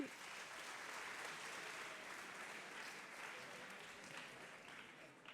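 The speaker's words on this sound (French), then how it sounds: "qui vont vous applaudir, bien sûr" An audience applauds the finalists at a 2014 oratory and debate final, the clapping steady and sustained throughout, a dense even wash of many hands that thins slightly at the very end.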